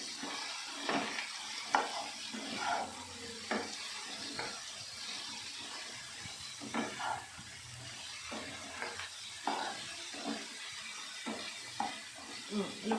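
Shrimp and taro stolons sizzle in a pan while a spoon stirs them in repeated scraping strokes, close and moderately loud over a steady frying hiss, with occasional voices in the background.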